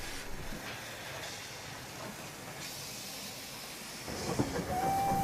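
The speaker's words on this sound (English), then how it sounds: "number 83 Earlswood is keen to exchange brake bands and sets about shunt releasing the Dean Goods locomotive" A pre-grouping era steam locomotive shunting near a Dean Goods engine on a heritage railway gives a steady hiss of steam and rumbling, closing with a louder burst and a faint thin whistle-like tone.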